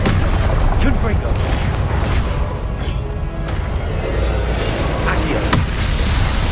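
In the Hogwarts Legacy video game, the Confringo blasting spell explodes as dense, continuous booming blasts and crashes that fill the whole stretch at high volume, with a voice calling out spell names over the top.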